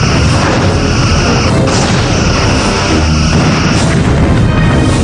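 Torpedo blasts go off in the Star Trek Bridge Commander space combat game, heavy booming bursts over a dense rumbling bed, with two sharper impacts standing out.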